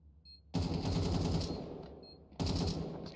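Automatic gunfire in a Counter-Strike tournament match on the Nuke map comes in two loud, close bursts, the first lasting over a second and the second starting after a short pause.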